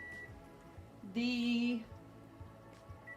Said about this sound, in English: timer is going on